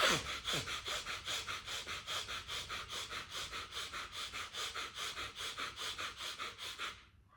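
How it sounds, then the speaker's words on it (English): Rapid, forceful bhastrika pranayama breathing in and out through the nostrils, close and alone, with quick, even bursts about three per second sustained for roughly seven seconds before stopping. "So you're breathing in and out through your nostril."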